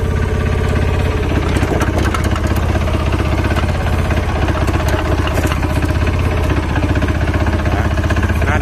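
The small single-cylinder diesel engine of a Hanix H05 mini excavator runs steadily and close by, its rapid knocking chug continuous and loud throughout with no talking.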